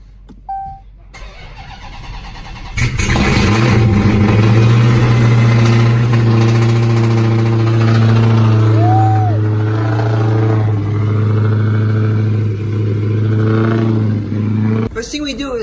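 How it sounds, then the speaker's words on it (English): A cold 5.7 Hemi V8 in a 2019-2020 Ram 1500 cranks and catches at about three seconds, then holds a loud, steady high idle with a deep rumble that continues for roughly twelve seconds before cutting off; a voice speaks briefly under it. "that calls for a cold start"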